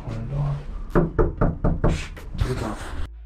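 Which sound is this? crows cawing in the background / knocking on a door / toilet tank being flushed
knocking on a door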